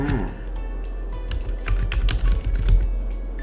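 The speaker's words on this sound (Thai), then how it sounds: "ผมจะลองพิมพ์คนแรกก็แล้วกันนะครับ" Rapid clicking on a computer keyboard as text is entered into a Google Sheets form, a run of close, fairly loud key taps with a brief voice-like murmur at the start.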